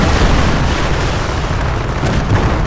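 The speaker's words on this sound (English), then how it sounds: "there's artillery coming in" Artillery barrages land in a Company of Heroes: Eastern Front battle, making a loud, continuous rumble of booming blasts and bursts with no break and no voices.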